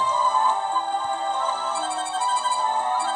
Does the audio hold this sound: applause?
no